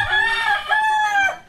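A rooster crows loudly and close by in a rural yard in Batangas, giving one long, wavering cock-a-doodle-doo call with a short extra note at the end.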